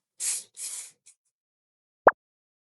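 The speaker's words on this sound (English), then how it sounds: "whenever you spray, you hold your setting spray back at least 8 inches away from your face" Two short, close bursts of makeup setting spray hiss, sprayed about 8 inches from the face, then quiet and a single sharp click after a pause.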